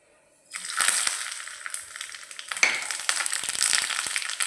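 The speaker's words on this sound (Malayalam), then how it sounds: "അതിലേക്ക് 1 ടേബിൾ സ്പൂൺ എണ്ണ ഒഴിച്ചിട്ടുണ്ട്. അതിലേക്ക് ഞാൻ കടുക് ചേർക്കുന്നത്." Mustard seeds frying and crackling in a tablespoon of hot oil in a small ladle over a stove, a dense steady sizzle with sharp pops that begins abruptly after a moment of quiet and stays loud throughout.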